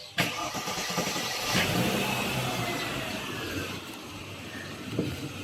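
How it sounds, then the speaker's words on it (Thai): A Mercedes-Benz W211 E240 V6 engine cranks and starts, then settles into a steady, smooth idle, close by with no talking. "เรามาฟังเสียงเครื่องยนต์กันนะครับ ฟังเสียงเครื่องยนต์ครับ"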